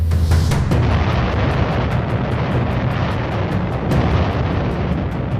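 A massive, sustained roar from 100,000 pounds of TNT detonating fills the air, with a series of sharp, regular cracks popping through it like rapid detonations.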